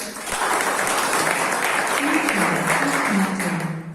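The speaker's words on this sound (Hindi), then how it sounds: "उनके लिए एक बार तालियां चाहता हूं" Audience applause at a monthly meeting, a steady dense wash of clapping from a crowd indoors, with a voice faintly audible beneath it throughout.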